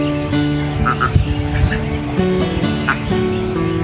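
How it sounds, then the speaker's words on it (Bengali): Domestic desi ducks quacking beside a large fish pond near a duck house on a farm, several birds calling repeatedly in short overlapping quacks over steady outdoor background noise. "আসলে দেশি হাঁস"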